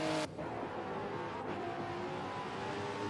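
Supercars race around the Bathurst mountain circuit, a sustained engine roar with shifting revs and a faint tyre squeal, heard at a distance without speech.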